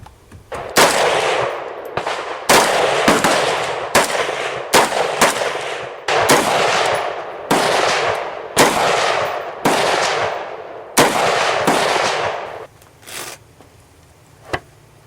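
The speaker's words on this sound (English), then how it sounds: "Now on this old FR8 308 Mauser, shot it a couple of times with the mount." An old FR8 .308 Mauser bolt-action carbine fires a series of sharp, loud shots, about a dozen evenly spaced cracks each with a short decaying tail, ending with a few fainter pops.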